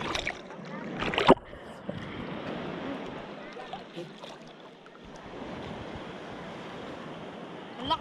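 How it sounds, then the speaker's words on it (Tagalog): Big sea waves roll and wash along the shore at Finale Ligure, Italy, a continuous rushing surge mixed with wind buffeting the microphone, while people talk intermittently over it. "Ang laki ng alon."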